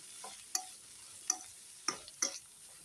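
Vegetables being stirred into corn upma in a pan: a low, steady sizzle broken by about five sharp spoon clicks and scrapes against the metal at uneven intervals, close by, with no talking.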